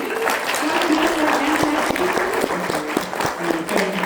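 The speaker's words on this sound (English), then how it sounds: "let's have a nice big round of applause for everybody" Applause closing an official Zoom debate session, a continuous patter of clapping with a voice speaking over it throughout.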